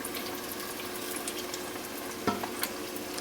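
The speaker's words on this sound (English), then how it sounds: "I'm going to finish frying this up" Beer-battered Southern fried chicken breast pieces frying in hot oil, giving a steady close hiss and crackle throughout with a brief louder spatter near the end.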